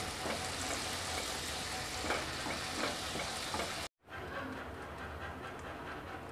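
Tandoori chicken pieces frying in melted butter in a pan, giving a steady, dense sizzle throughout with a momentary cut partway.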